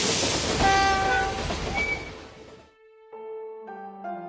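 A train in a hidden object adventure game set around a train station and Switzerland, with a broad rumbling ride noise and steady tones that fade, then sustained horn-like notes sounding loud and close near the end.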